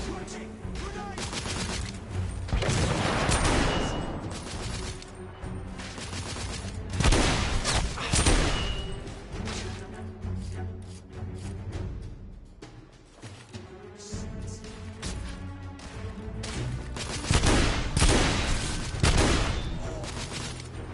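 Gunfire and a grenade explosion in the video game The Order: 1886, with dense, continuous volleys of close, loud shots and heavy booms rolling on without a break.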